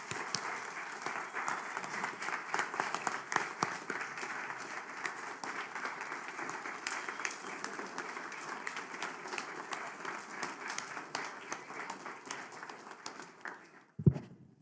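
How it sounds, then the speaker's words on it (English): Sustained applause from a large crowd of about fifty people at a public budget hearing, a steady wash of clapping that carries on for the whole stretch before a sudden thump near the end. "one final round of applause"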